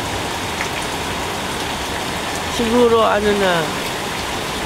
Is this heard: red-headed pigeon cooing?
no